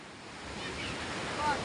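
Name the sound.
big ocean waves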